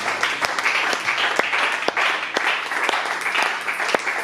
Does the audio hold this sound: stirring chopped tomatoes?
no